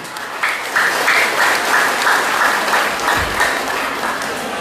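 Crowd applause at a political rally in Petagas, Sabah, a dense sustained roar of many clapping hands, loud and continuous for several seconds.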